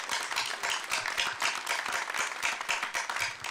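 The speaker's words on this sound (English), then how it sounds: "give yourselves a round of applause for being here and caring" A room of attendees at a Chicago 44th Ward aldermanic candidate forum clapping together, a moderately close, brisk patter of many hands sustained evenly, with no one speaking over it.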